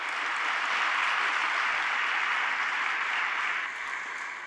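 A large crowd applauds the Pope's speech in a broad, sustained wash of distant clapping that stays even and then eases slightly near the end.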